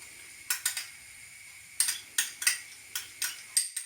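A utensil stirs paprika, curry powder, mixed herbs and tomato puree into a curry paste for a sweet potato and chickpea curry, giving about a dozen sharp metallic clinks and scrapes against the pan in irregular clusters over near silence.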